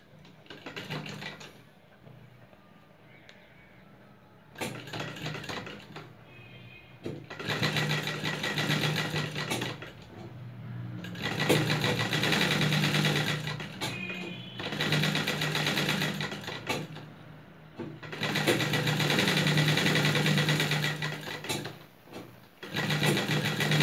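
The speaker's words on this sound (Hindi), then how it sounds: "इस तरह से फिर हम इधर से एक सिलाई लगा देंगे बिल्कुल किनारी पे।" A sewing machine stitches along the edge of a cloth face mask in repeated close, loud bursts of fast mechanical whirring, separated by brief quiet pauses.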